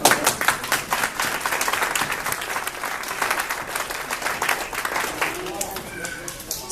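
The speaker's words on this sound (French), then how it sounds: "je veux vous applaudir" A church congregation applauds in a dense, steady burst of clapping that fills the room, with voices rising faintly underneath toward the end.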